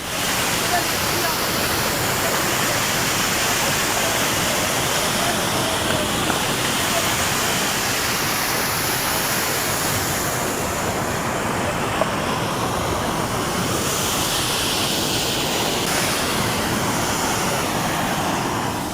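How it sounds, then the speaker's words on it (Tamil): Floodwater roars from a breached reservoir after heavy rain near Kodaikanal, a loud, dense, unbroken rush that holds steady from start to finish without pause. "கனமழையால் புலி பிடித்த ஓடை என்ற நீர்த்தேக்கத்தில் உடைப்பு ஏற்பட்டு சாலை துண்டிக்கப்பட்டுள்ளதால்"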